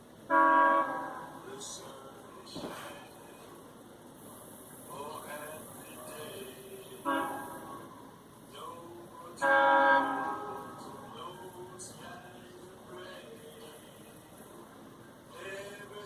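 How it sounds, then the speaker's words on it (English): An eastbound freight train passes a trackside spot in Maple Grove, sounding several loud horn blasts over a steady rumble while someone talks in between. "We're trackside in Maple Grove, waiting on that eastbound freight."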